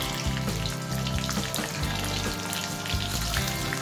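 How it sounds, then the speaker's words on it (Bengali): Whole cashews frying with lightly browned onions in a pan, making a loud, dense crackling sizzle throughout with scattered spatted pops and no voices. "এবার কাজুটাকেও পেঁয়াজের সাথে ভেজে নেব।"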